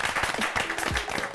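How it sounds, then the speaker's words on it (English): A brief burst of applause from a crowd, dense clapping filling the moment without any speech. "Give yourselves a round of applause."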